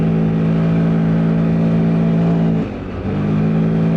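A Loncin X-Wolf motorcycle engine drones loudly at high, steady revs, briefly dipping before surging back up under full throttle.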